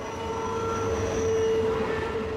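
A BNSF or Union Pacific freight train climbing Cajon Pass near CP Summit gives a steady, loud rumble with sustained tonal whine and squeal, continuous throughout with no voices.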